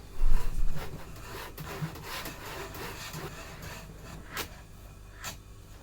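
Fret slots being sawn into a sassafras acoustic guitar fretboard, a steady back-and-forth rasp of a fine saw through wood, moderately quiet and continuous with a few sharper strokes.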